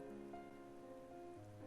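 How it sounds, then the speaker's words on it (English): Rain drums softly and steadily on a window pane in the Cinderella Phenomenon video game, a quiet continuous patter under a low sustained musical drone, with no voices. "I look up and focus on the rain drumming on the window pane."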